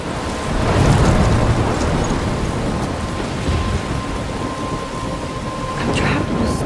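Thunderstorm with steady heavy rain in the Life is Strange video game, a dense continuous downpour with low rumbling thunder swelling early on, loud and enveloping throughout.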